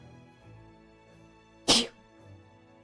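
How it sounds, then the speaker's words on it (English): A single sharp sneeze bursts out loudly against a quiet background, brief and close. "I'm sorry if I'm sneezing a lot."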